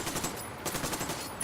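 Automatic gunfire in a Ghost Recon Wildlands cutscene, a dense, continuous rattle of rapid shots filling the whole moment at close range, with no talking.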